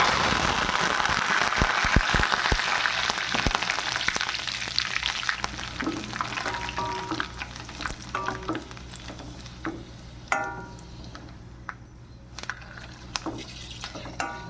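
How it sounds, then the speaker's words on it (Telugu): Chicken pakoda with curry leaves and green chillies frying in hot oil, a busy crackling sizzle with sharp spitting pops that thin out and quieten over time, close and without talk. "ఇవి కూడా వేగుతున్నాయి"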